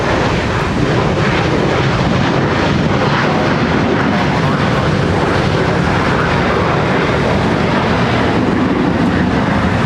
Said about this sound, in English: How about some Pratt & Whitney action from the 757-200?